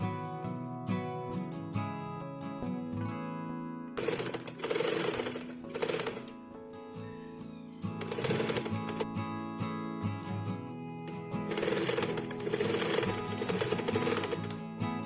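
A sewing machine stitches a handbag made from a reused fabric carry bag, running in several bursts of rapid, close mechanical whirring with short pauses between them, over a steady tonal background.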